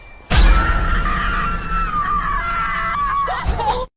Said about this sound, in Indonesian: Alice pun hanya mampu berteriak histeris